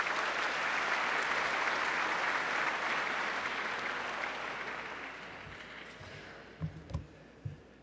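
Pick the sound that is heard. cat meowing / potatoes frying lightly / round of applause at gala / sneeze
round of applause at gala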